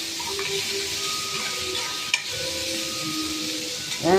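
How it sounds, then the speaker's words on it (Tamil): Onions frying in hot oil until golden, with a steady close sizzle and soft stirring scrapes throughout, one sharp clink partway through and a brief louder clatter at the end; no one speaks. "நல்லா எண்ணெயில் வெங்காயம் பொன்னிறமாக வரணும்"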